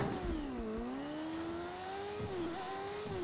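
A motorcycle engine in the Fortnite video game hums and revs with a wavering, gliding pitch that dips and climbs, continuous and fairly faint, with no talking.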